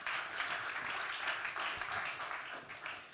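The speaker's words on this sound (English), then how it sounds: "Round of applause, folks." Festival audience at a digital conference giving a round of applause, a steady wash of many hands clapping, moderately loud and somewhat distant.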